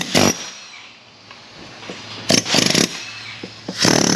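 A 2002 Stanley air gun bought at Walmart fires in short, loud hammering bursts against a rivet on a Pontiac, three separate rattling blasts with quieter gaps between.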